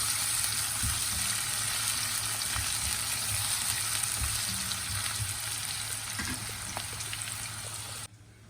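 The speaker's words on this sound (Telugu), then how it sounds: "ఒక బౌల్లో కప్పు నిండా ఆనియన్ ఇవి కూడా బాగా బ్రౌనిష్ కలర్ వచ్చే వరకు వేయించుకుందాము" A full cup of onions fries in hot oil for a boneless spicy chicken dish, a dense steady sizzle with occasional stirring knocks. It stays close and continuous and then drops off sharply near the end, with no voices.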